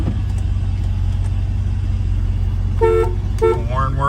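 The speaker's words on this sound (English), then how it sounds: "The horn works." The horn of a 1968 Pontiac Firebird gives two short, loud honks under a steady low engine idle, then a brief voice follows.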